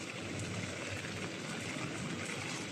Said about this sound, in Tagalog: Payong kasi umuulan.